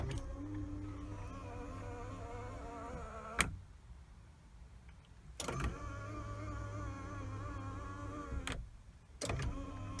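The electric power folding mirror motor on a Mercedes ML W163 whirs in steady buzzing runs of a few seconds each, broken by sharp clicks as the mirror stops, close and fairly quiet.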